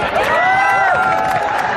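At an annual school function called Udisha, an audience cheers and shouts loudly throughout, with raised voices blending into one dense, continuous roar.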